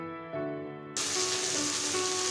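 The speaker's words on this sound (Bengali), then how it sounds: "এখন খুব ভালোভাবে কষাতে হবে সবজিটা।" Potato and pointed gourd vegetables sizzle loudly in hot oil in a pan, a steady bright frying hiss that jumps up sharply after a quieter start, with no talking.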